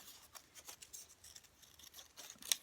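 Scissors cutting paper for a journal project, several quiet close snips in an uneven rhythm with a sharper snip near the end.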